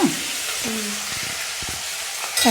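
Onions frying in a pan for a cauliflower curry, a steady broadband sizzle with occasional stirring clinks, moderately close with no talk.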